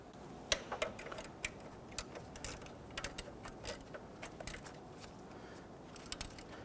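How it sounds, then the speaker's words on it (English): Ratchet wrench tightening the rear bolts on the crankshaft damper area of a 1992-1996 Toyota Camry 2.2L four-cylinder engine, a quiet run of rapid close clicks and ticks in irregular bursts. "Let's go ahead and tighten down the back bolt here and then the rear horizontal bolt here"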